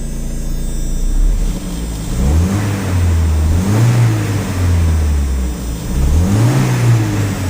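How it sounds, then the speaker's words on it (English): A 1985 Mercedes 190E with a manual gearbox and 2.0 engine, running warm with a faulty cooling fan, is revved repeatedly, loud and close, its pitch climbing and falling in several surges over a steady idle. "I'm going to jump in real quick and give it a nice little rev."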